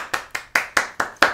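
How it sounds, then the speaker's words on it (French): Six sharp hand claps in a steady, even rhythm, close and alone with no voices. "Applaudissements."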